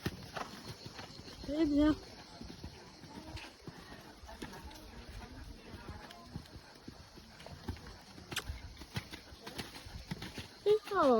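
A horse, ridden bareback in a halter, canters with rhythmic hoof clip-clops across the ground, moderately close. Birds chirp in the background and a rider's voice briefly speaks over it.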